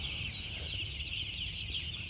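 Broiler chicks in a poultry house make a constant chorus of high, chirping cheeps with no single loud call standing out, and low machine rumble sits beneath it.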